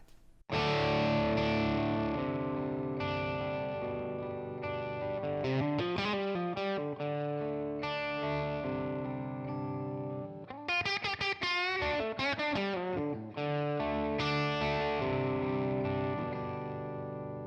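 Electric guitar played through a Tonex One boutique amp model with added reverb, distorted, sustained chords and picked riffs, loud and continuous with a reverberant tail and no talking.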